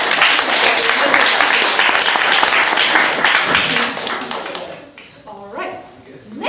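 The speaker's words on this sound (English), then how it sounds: "Let's give a round of applause to Alicia." Audience applause at a winter music school recital, a full clapping wash that thins out and fades toward the end with a few scattered claps and some voices underneath.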